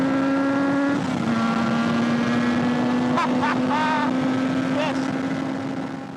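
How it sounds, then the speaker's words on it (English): A Yamaha RZV500R 500cc four-cylinder two-stroke motorcycle engine runs loud and close with a steady buzzing drone and a few quick throttle blips, while a voice speaks one brief word. "This is a 500cc 4-cylinder two-stroke."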